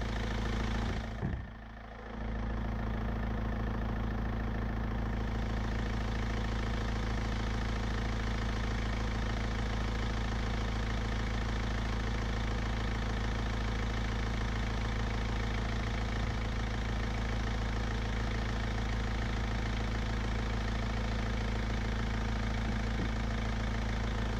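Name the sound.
Mercedes C 220 coupé engine idling after starting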